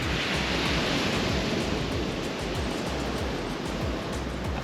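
Ocean surf near a minibus stop on the Jamaican coast makes a constant, loud, rushing wash with low rolling swells beneath it and no voices.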